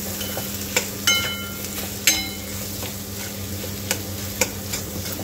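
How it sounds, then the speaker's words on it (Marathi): Spiced potato filling for bread pakora sautéing in a pan, with a continuous close sizzle and a few light spatula scrapes and taps scattered through it, no speech. "आता याला छान परतून घ्यायचं."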